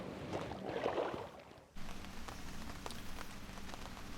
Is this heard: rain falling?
yes